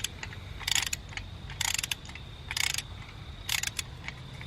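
A socket wrench ratchets as spark plugs come loose on a swapped H22A engine in a 5th-generation Honda Prelude race car. Four evenly spaced bursts of rapid clicking sound close and crisp.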